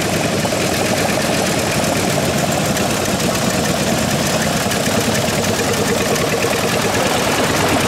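Antique 1902 car with a De Dion-Bouton engine idling at a rally of veteran cars, a steady loud chugging and rattling that runs unbroken and close for the whole stretch, with no voices.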